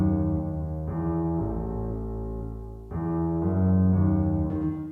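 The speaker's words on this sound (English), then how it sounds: "You also have this big piano. I'm getting this from FL Keys again." A big FL Keys piano plays loud, sustained low chords that shift a few times, resonant and full, with no other sound.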